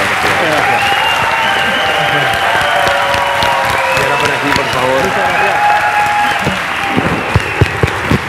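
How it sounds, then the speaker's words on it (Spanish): Audience applause for the folk group La Ronda de Boltaña, a dense steady wash of clapping from a crowd that holds loud across the whole stretch while someone speaks briefly over it. "pido un fuerte aplauso a la Ronda de Voltaña"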